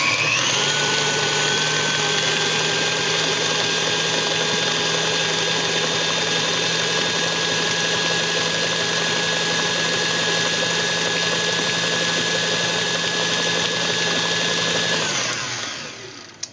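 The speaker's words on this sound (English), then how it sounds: "we're going to mix it on high until it's nice and smooth" An electric mixer beats vanilla cupcake batter on high, a loud, steady motor whine that runs unbroken for about fifteen seconds and then winds down and stops.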